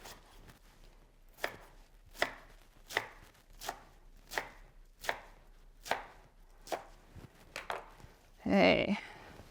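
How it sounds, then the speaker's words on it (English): Crunchy cabbage bottoms being diced with a knife on a board for kimchi, about ten crisp, evenly spaced chops in a close, quiet room, ending in a louder rustle. "So we're going to finish dicing those up."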